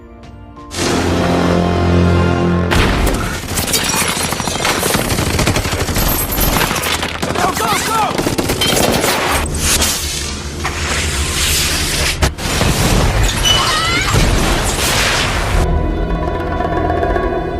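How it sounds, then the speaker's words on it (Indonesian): Gunfire and explosions from a rocket launcher and machine guns slam into a house in a film scene, a loud, dense barrage of rapid bursts and booms running almost continuously after a brief quiet start, then cutting off near the end. "terlihat tempat kediaman Frank dilauncher dan diberondongi peluru oleh anak buah Wall"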